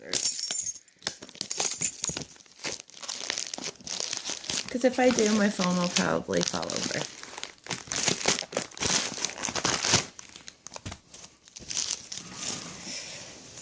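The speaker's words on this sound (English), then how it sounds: "Get out my keys, maybe that'll help. I feel like getting back up to get scissors." Crinkling plastic packaging as a Contec pocket fetal doppler box is opened, close rustling and crackling in bursts while a person talks over it.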